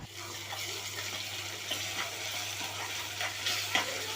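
Ginger garlic paste sizzling with onions in a pan for chicken curry, a steady, fairly faint fry with stirring scrapes and a low constant hum beneath.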